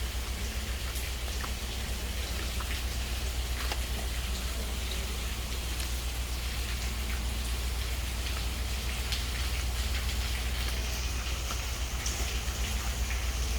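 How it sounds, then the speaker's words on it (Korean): Heavy rain pours steadily in a dense, unbroken hiss over a fish auction setting in Mokpo, a constant loud wash of drops on surfaces with no voices. "비가 많이 옵니다."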